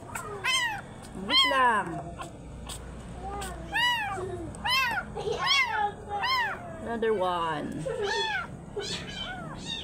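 Abandoned kittens being fed milk meow repeatedly and insistently, close and loud, in overlapping high-pitched cries throughout, with a person speaking briefly among them.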